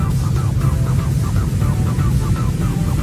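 Inside an airplane cabin before takeoff, the engines give a loud, steady roar with a low rumble and a faint pulsing hum, holding close to one level throughout.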